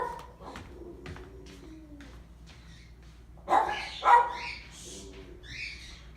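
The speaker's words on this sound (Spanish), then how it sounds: "Denme un segundo que mis perros ladran y si no les abro la puerta van a empezar a fastidiar." Several dogs bark from a distance indoors, two louder bursts standing out midway, with softer whines and yips around them.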